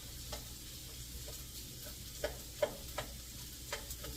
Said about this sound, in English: So I'm going to go ahead and I'm going to add my rice. And just kind of break the rice up.